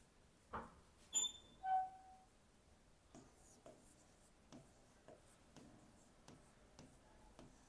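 A pen or marker writes on a board in a classroom lesson, faint scattered strokes and scratches with brief squeaks near the start, close and quiet, with no talk.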